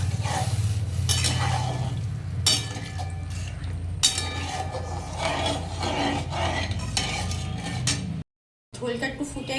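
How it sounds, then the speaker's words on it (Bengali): Tomato curry masala sautéing and being stirred in a pan, a steady loud sizzle with repeated scrapes and clinks of a utensil against metal, briefly cut off near the end before resuming. "এই যে বেশ করে আমি কষিয়ে নেব।"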